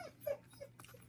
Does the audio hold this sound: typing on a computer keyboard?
no